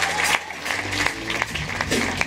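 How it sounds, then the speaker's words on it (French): Applause at a film festival closing and awards ceremony, a moderate crowd clapping steadily for a couple of seconds with individual claps standing out, somewhat distant and under a murmur of voices. "On peut les raccompagner sous vos applaudissements."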